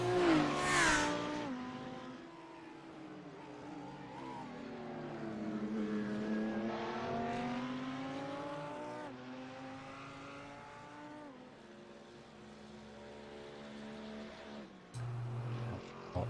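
GT3 race cars lap Mount Panorama Circuit in a sim racing video game, one engine revving up and down through gear changes, with other cars audible nearby.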